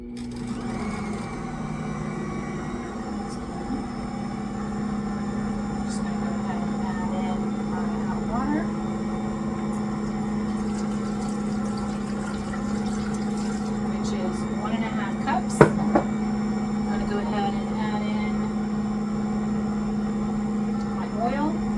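A kitchen mixer hums steadily at low speed while wheat dough is mixed, a constant near drone with a few faint clicks, and a person talks over it now and then.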